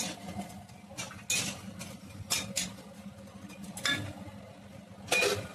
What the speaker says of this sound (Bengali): এখন আমি ঢেকে দিলাম একটু সেদ্ধ